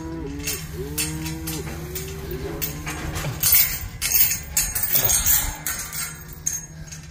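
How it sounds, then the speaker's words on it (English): Several cattle at pasture moo in overlapping, drawn-out calls over a steady low hum, with occasional clinks and rustles in the background. "We got happy cows now."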